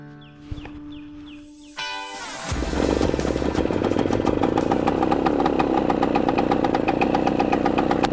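1970 Yamaha AT1 125 two-stroke motorcycle engine cranked and firing up after a couple of seconds of clicks and clunks, then settling into a loud, rapid, buzzy fast idle up close.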